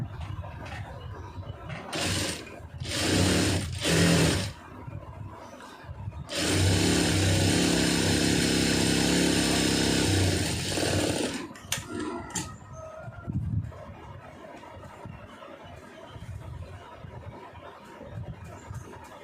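Sewing machine stitching a lined blouse, running in several bursts of mechanical whirring and clatter, one long steady run in the middle, then quieter handling noises, with no talk over it.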